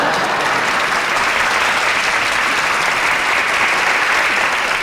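Steady, loud applause from a crowd, dense clapping that holds evenly throughout with no talking.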